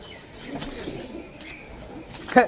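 Pigeons released into flight on a cloudy day, soft cooing and a faint flutter of wings under outdoor background noise, ending with a brief louder flap near the close.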